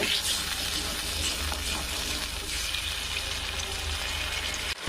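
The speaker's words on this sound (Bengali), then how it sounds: "এবার হাফ বাটি জল দিয়ে দিব" Water poured into a pan of vegetarian mushroom curry, a steady rushing splash and sizzle at moderate loudness, continuous for several seconds before cutting off abruptly.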